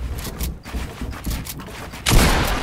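Gunfire in the Fortnite video game during a 1v1 match, a dense burst of loud overlapping shots and booms with a heavier blast near the end.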